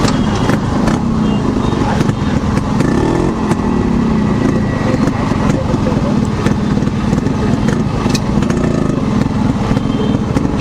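A motorcycle engine runs loud and close, with a steady rough rumble and some clatter as it gets going and rides off, while someone talks over it.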